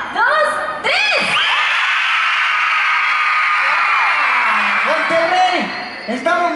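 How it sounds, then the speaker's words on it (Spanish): A concert crowd at a Violetta show in Monterrey shouts loudly. The sustained, roaring wall of voices and whoops lasts several seconds, framed by an amplified voice at the start and end. "escuchar un grito bien fuerte"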